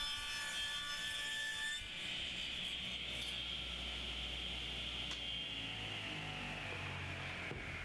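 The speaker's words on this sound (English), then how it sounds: "At this point, I just cut the edges off to square them up." A saw takes a light squaring cut along the edges of a glued-up wood blank, a steady, quiet, whining rasp that shifts tone partway through and runs continuously without talk.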